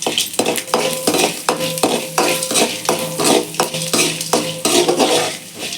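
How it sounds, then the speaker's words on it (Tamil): Fennel, cumin, pepper, cinnamon, cloves, cardamom and dried chillies are roasted in oil while a spoon scrapes the pan in loud, rhythmic strokes. A busy crackling sizzle runs underneath, close and continuous, with no voices. "சோம்பு சீரகம் மிளகு பட்டை கிராம்பு ஏலக்காய் வத்தல் எல்லாத்தையும் நல்லா வதக்கலாம் நல்லா வறுத்து எடுத்துக்கலாம்"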